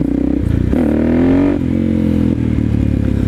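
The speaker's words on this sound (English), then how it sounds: "just gonna kind of practice accelerating hard through the gear and learning where the power is" A motorcycle accelerates hard through second gear, its engine roaring close and loud with a rising rev, a brief dip as the throttle eases, then a steady loud drone.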